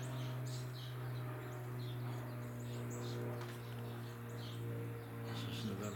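Eurasian tree sparrows chirping while feeding at backyard bird feeders in St. Louis County, a busy scatter of short, faint chirps over a steady low hum throughout.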